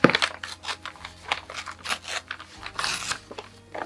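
Scissors snip through a bag being cut for a handmade junk journal cover, with crisp crinkling and tearing of material; a series of close, irregular cuts over a couple of seconds, fairly quiet, no talking.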